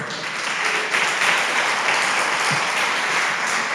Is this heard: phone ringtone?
no